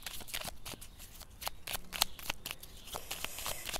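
Oracle cards are shuffled by hand in quick, crisp riffling flicks, an irregular series of sharp papery slaps close to the microphone, with no talking.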